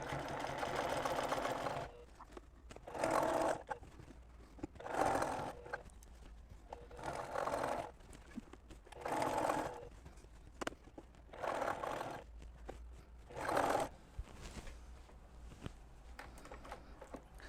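A sewing machine stitching a quilt during ruler-guided free-motion quilting, running in steady bursts of rapid whirring with brief pauses between them. It is close and moderately quiet, with no speech.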